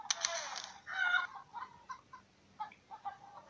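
Cartoon chickens in the farming game Egg, Inc. let out a quick burst of clucking, then softer scattered clucks, small and clean over a quiet background with no talking.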